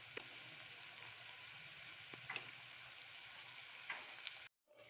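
Spices fry in a pan for rasam, a steady soft sizzle with faint crackles and a few small pops, close by and quiet, cutting off briefly near the end.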